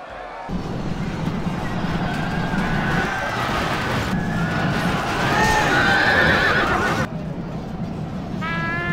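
Cavalry horses charge through a chaotic battle in Total War: Rome 2, with repeated whinnies and clattering hoofbeats rising over a constant loud roar of combat.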